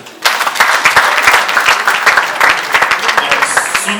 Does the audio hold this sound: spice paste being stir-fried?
no